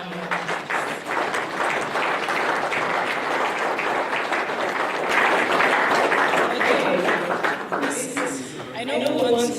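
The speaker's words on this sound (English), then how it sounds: "let's do more than just clap" Audience at a civil society leadership conference gives a speaker a sustained round of applause, dense steady clapping filling the room for several seconds, swelling midway before a voice begins speaking near the end.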